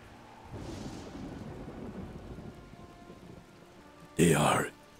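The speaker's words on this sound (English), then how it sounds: "It's raining, just like in the films." Steady rain hiss in the video game Battle for Middle-earth fills the background with a low rumble during the Helm's Deep battle, then a loud burst of noise near the end; no one speaks.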